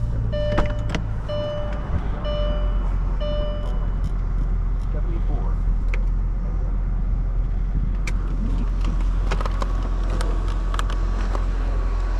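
A 2001 Mercedes-Benz S55 AMG sedan cranks and fires up, then settles into a deep, steady low rumble at idle, heard close up under a voice talking.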